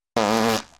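A single short cartoon fart sound effect, a loud buzzy blat under a second long that trails off, from an animated comedy.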